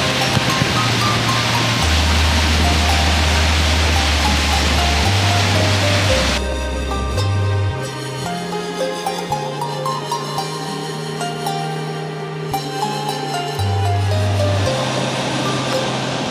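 Water pouring down a waterfall in Huancabamba: a loud, steady rush of roaring noise for several seconds, which then cuts abruptly to music.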